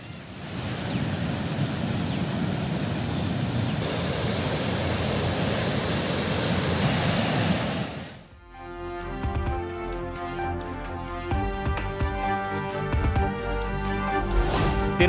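The overflowing Kaveri river rushes along its banks at Mettur in a dense, steady roar of water for about eight seconds before it cuts abruptly to music.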